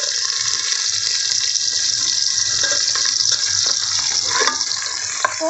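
Two large onions, cut into long slices, sizzle in a pan for biryani, giving a steady broad hiss that stays fairly loud and even throughout, with no talking.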